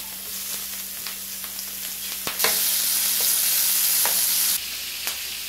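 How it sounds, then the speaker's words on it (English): Salt and pepper pork belly slices fry on a hot grill, giving a steady close sizzle that swells into a louder, harsher crackle for about two seconds before settling back, with occasional pops and no talking. "you want to let it fry really well"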